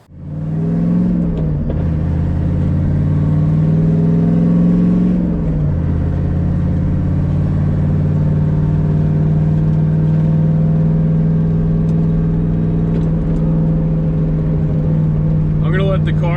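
A turbocharged Ford Mustang engine drones loudly and steadily at night, rising in pitch as it accelerates, then settling into a sustained cruising hum for a long stretch.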